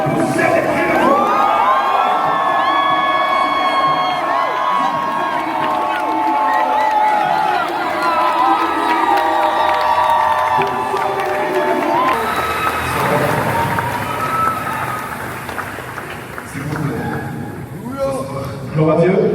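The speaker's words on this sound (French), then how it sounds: "est-ce qu'on peut pousser les cris de joie?" A church congregation in Kinshasa, Congo, raises loud cries of joy, a dense crowd of shouting and cheering voices that carries steadily before thinning toward the end, with speech mixed in.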